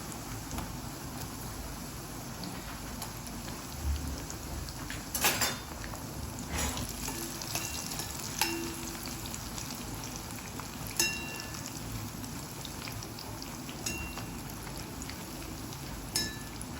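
Wheat flour puris deep frying in hot oil, a continuous soft sizzle heard close, broken by occasional clinks of a metal utensil against the pan, with no talking.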